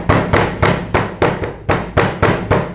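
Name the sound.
hammer bruising lemongrass stalks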